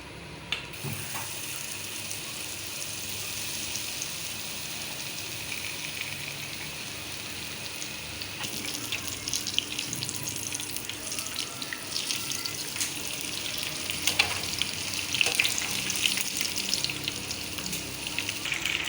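A besan-coated sandwich fries in hot oil with a steady, close hiss and crackle that grows busier and louder toward the end, with no voices.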